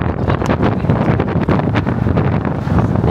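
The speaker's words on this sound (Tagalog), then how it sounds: "Hindi ko alam kung nakikita pero mahangin." Strong outdoor wind in Toronto buffets the microphone with steady low rumbling gusts that fill the whole stretch, with no one talking.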